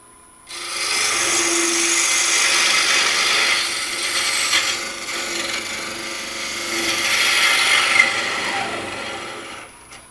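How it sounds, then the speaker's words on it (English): A thin wooden finial is parted off on a wood lathe spinning just under 2500 RPM, giving a close, steady rasping scrape of tool on wood that swells and eases for several seconds and then stops, with no talk. "We'll just go ahead and part that guy off."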